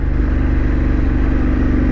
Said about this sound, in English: Yep, that's a road going car.